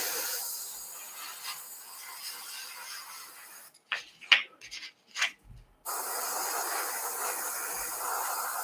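An airbrush blows a steady hissing stream of air to dry plastic parts of a 1:72 MiG-29 model kit; the hiss cuts out briefly midway with a few soft knocks and clicks, then resumes at the same level.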